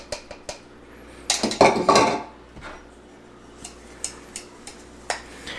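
A spoon mixes paprika and garlic powder for a corned beef brisket marinade, clinking and scraping against a bowl in scattered taps, with a louder burst of stirring early on.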